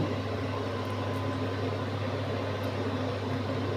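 Dal pakora batter frying in hot oil, a steady, even bubbling hiss held throughout with a low hum beneath, close and free of speech.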